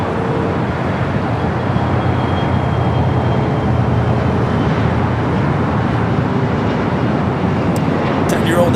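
Airbus A350-900 jet rumbling at Los Angeles International Airport, a steady broadband roar that holds loud and constant throughout with faint talk beneath it.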